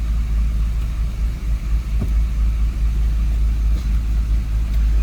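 A Toyota FJ80 Land Cruiser with an LS engine swap runs steadily under braking, giving a close, continuous low rumble with no drop in revs and a few faint clicks on top.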